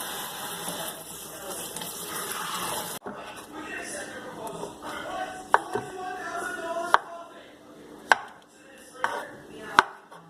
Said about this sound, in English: Just chop it all the way you want it.